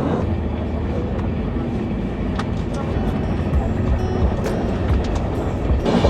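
The 22317 Humsafar Express, heard from inside a carriage, gives a loud, steady low rumble with scattered metallic squeals and clanks, and faint voices murmur underneath.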